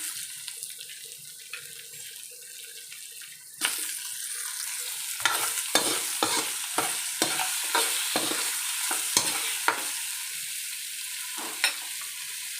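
Carrots dropped into a hot pan, with a steady bright sizzle that jumps up suddenly and continues under repeated scraping and stirring knocks, close and fairly loud.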